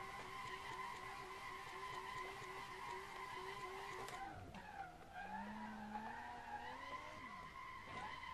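Tyres of a Tofaş squeal continuously while drifting along a mountain road in Assetto Corsa, a steady high screech over a droning engine note that dips and shifts pitch midway.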